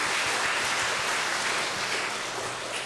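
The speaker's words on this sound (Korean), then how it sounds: "우리 감사와 우리 격려의 박수 같이 한번 감사의 박수 하겠습니다" A church congregation at a Sunday service applauds its choir, a steady wash of many hands clapping together that fills the room evenly from start to finish.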